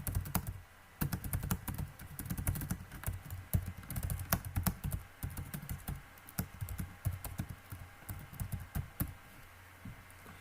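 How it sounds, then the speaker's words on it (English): Computer keyboard typing in a quiet room, with irregular bursts of close, crisp key clicks over about ten seconds and short pauses between words, no voices. "and then you type"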